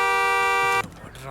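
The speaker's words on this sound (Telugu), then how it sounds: "ఎందుకు హార్న్ కొడుతున్నారు?" A car horn blares in one long, loud, steady honk on a street, then cuts off abruptly as voices and traffic noise follow.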